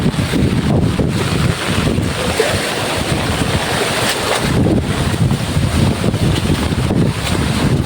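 Strong gusting wind during a heavy village rainstorm, buffeting the microphone with a steady loud roar and surging gusts that rise and fall throughout, with no voices.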